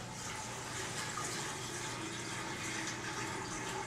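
Water poured straight into the basin of a Rainbow vacuum cleaner makes a steady, close gushing and splashing that runs evenly throughout, with no voices.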